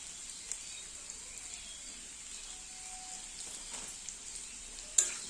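Potatoes fry with cumin powder in a pan for a vegetarian paneer dish, giving a faint, steady sizzle under light stirring scrapes, with a sharper clack near the end.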